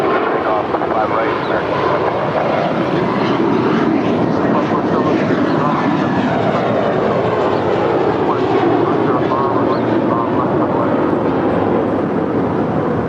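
A steady, loud roar from an airliner landing on runway 25 left at LAX holds throughout, a dense jet rumble with a voice faintly present beneath it.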